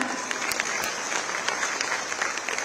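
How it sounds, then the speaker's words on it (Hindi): Continuous clapping from a ceremony audience welcoming an official onto a stage, dense and even with a few crisp individual claps standing out. "लगातार तालियों के साथ"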